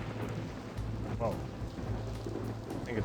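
Rain falls in the video game The Blackwell Convergence, a steady rushing patter with low rumbling underneath and a brief voice-like sound partway through.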